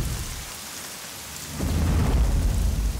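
Heavy rain pours steadily, then a deep rumble of thunder swells in halfway through, loud and close with a dense wash of falling water, in a Hindi-dubbed action film scene.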